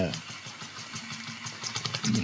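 Miniature Rocking Whale steam engine kit running, giving a soft, regular chuffing pulse beneath someone talking close by.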